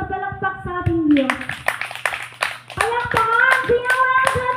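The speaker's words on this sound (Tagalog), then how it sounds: "Malakas na palakpak sa ating Diyos." A congregation at an outdoor garden prayer meeting claps loudly in praise, sharp hand claps rising under singing and overlapping voices.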